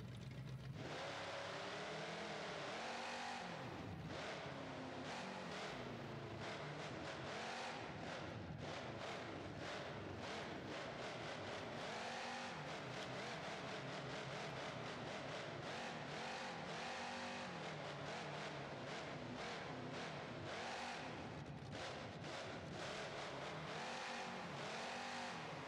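A monster truck engine in the BeamNG.Drive racing game revs hard and continuously, its loud roar surging and dropping through repeated throttle bursts, with no talking.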